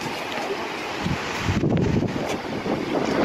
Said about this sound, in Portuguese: E o vento aí mudando o formato da cascata